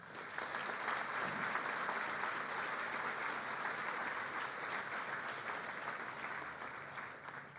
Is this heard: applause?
yes